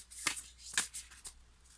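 Tarot cards are shuffled and drawn by hand in a quiet room, with a few soft, crisp riffling flicks spaced about half a second apart, close but faint.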